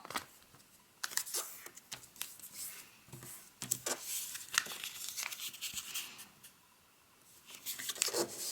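Origami paper being folded and creased by hand, a run of close, crisp crinkles and sharp creasing swipes in irregular bursts with quieter gaps between, no voices.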